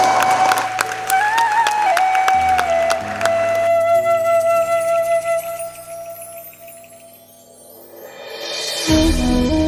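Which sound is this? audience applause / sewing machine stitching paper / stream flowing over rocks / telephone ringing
audience applause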